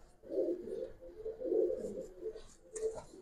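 A female Giribaz pigeon coos in a few low, throaty phrases, fairly close and moderately loud, with soft rustling between the calls.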